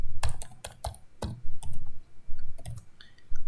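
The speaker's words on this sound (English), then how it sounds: "we are going to simply type printf function" Someone types printf on a computer keyboard, a quick, uneven run of close, crisp key clicks with small pauses between bursts, no talk over it.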